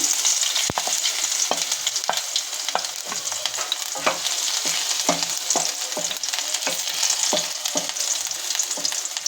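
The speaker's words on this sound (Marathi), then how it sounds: "तेल गरम झालंय आता आपल्याला घालायचं आहे लसण" Garlic sizzles in hot oil in a wok, a steady bright frying hiss with repeated sharp scrapes and clacks from a stirring utensil throughout, close and fairly loud, no talking.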